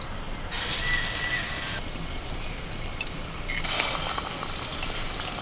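Kakrol (spiny gourd) pieces dipped in gram flour batter fry in hot oil, a soft steady crackling sizzle that swells twice as pieces go in, heard close with no talk.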